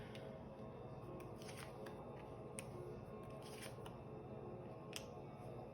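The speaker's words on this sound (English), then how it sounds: "as I was shuffling" Tarot cards being shuffled by hand, a soft, quiet papery riffling with scattered light clicks and flicks over a steady low background hum, no voices.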